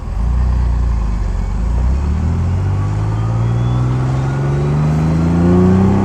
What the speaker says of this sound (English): So I'll do a first to second, and I won't blip it between.